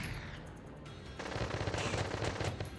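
Rapid machine-gun fire from the Valkyria Chronicles video game, a dense, continuous rattle of shots that swells louder partway through and keeps going with no voices over it.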